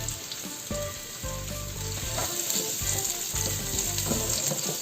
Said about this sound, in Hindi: ऑयल डाल के उसके बाद इसमें हमने ये दोनों चीज़ें डाल देनी है, ऑनियन और लहसुन